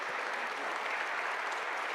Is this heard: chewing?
no